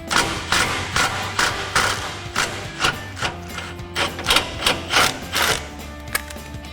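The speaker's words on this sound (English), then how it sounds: "I've got a 13mm swivel socket on an extension to pop this off" A 13mm swivel socket on an extension works the exhaust hanger bolt loose on a 2024 Mustang GT. Close, rhythmic ratcheting clicks and metallic thuds repeat about twice a second with no talking.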